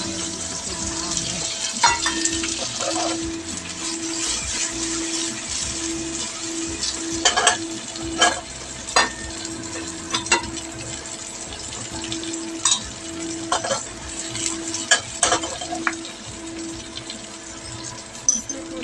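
Tofu puffs being stirred in a pan to coat them in sauce, with a soft, continuous frying sizzle, periodic utensil clacks and scrapes against the pan, and a steady hum running underneath, fairly close.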